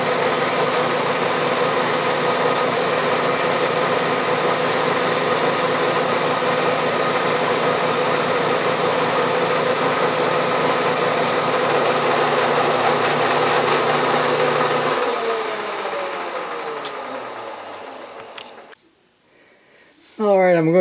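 A machine cutter takes a cut on metal while making a toolmaker's vise, a loud steady mechanical drone with a faint high whine that winds down and stops near the end.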